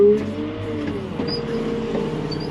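A tractor engine hauling in Timothy hay runs at a steady, droning idle close by, with a low rumbling hum that holds evenly throughout and no voices.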